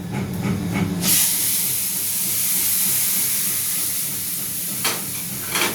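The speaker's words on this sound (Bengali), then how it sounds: "এই দেখো সিমুই ভাজছে ঘিয়ে" Vermicelli fries in plenty of ghee with a steady, loud, close hiss and crackle that holds evenly, briefly surging at the start and near the end.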